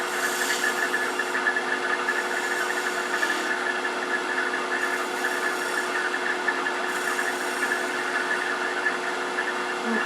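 A detail gouge cuts a spinning wooden pencil pot on a wood lathe, giving a steady, continuous whirring hum with a rough cutting texture that holds evenly throughout, with no voices.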